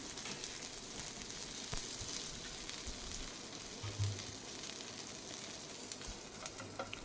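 Sweet corn patties fry in a little oil on a pan, giving a continuous soft sizzle that stays even and fairly quiet throughout, with a faint knock partway through.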